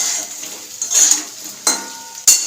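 Pakoras fry in a pan with a soft background sizzle, broken by a few sharp bursts of spattering and the clink of a utensil stirring, close by.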